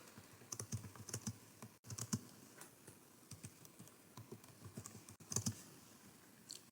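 Keys on a computer keyboard clatter close and quiet in short bursts with gaps between them as HTML heading text is entered, and no one speaks.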